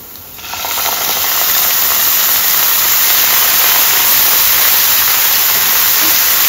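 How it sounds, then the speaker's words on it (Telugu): Coconut paste dropped onto sizzling fried onion paste in a pan for an ice apple curry, flaring into a loud, steady, close hiss that holds without a break. "ఇప్పుడు నేను కొబ్బరి పేస్ట్ వేసేస్తున్నాను."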